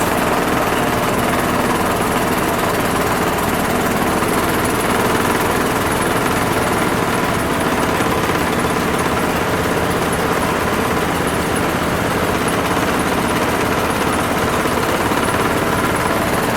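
An engine idling after a cold start with the choke fully off, a loud steady rough chug running continuously and close by with no pauses.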